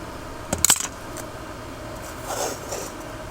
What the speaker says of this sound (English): Let me cut this section off.